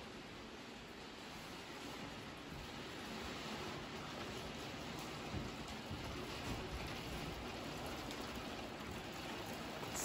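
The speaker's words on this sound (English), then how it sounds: "The rain is back on." Steady rain falls continuously in Lurgan, Northern Ireland, a dense even hiss of drops pattering on surfaces with no pauses or voices.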